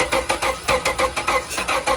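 A 2006 Chrysler 300 with a 3.5 engine and a broken camshaft cranks over with a misfire, the starter chugging in quick, uneven pulses of about five per second, loud and close.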